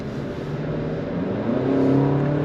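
A 2021 Toyota RAV4 accelerates hard, heard from inside the cabin as a steady engine drone that swells and climbs in pitch halfway through, with no talking.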